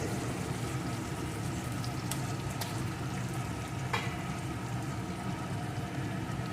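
Spice paste and chopped tomato for a rohu fish curry fry in a pan, a dense continuous sizzle with a few faint clicks from stirring, steady and close.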